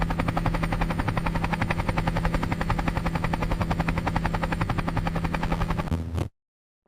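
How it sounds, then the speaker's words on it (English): A helicopter's rotor thumps in a fast, steady rhythm with a loud whining engine, then cuts off abruptly into silence. "The search and rescue helicopter uses a special winch to hoist people up from dangerous places."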